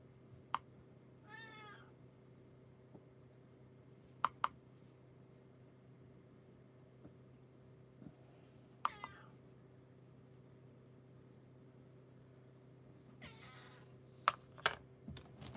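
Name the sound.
cat meowing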